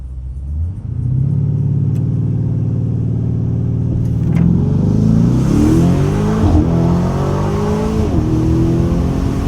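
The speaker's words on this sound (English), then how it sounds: "You heard the turbo spooling up and shit?" A Lamborghini Urus launches hard from a standstill on a city street, its engine rising from a low rumble into a loud, sustained climbing roar with turbo spool, then shifting through gears in stepped surges.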